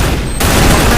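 Sniper rifle gunfire in a mobile esports shooter game, a loud sharp blast erupting partway through the moment and leaving a dense, booming wash of noise.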